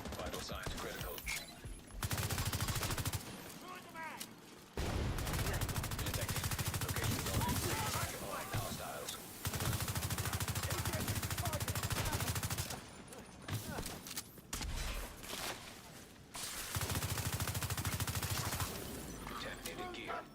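Turret gunfire in a video game comes as loud, dense sustained bursts separated by short pauses, with mechanical clatter between volleys and a game voice faintly present.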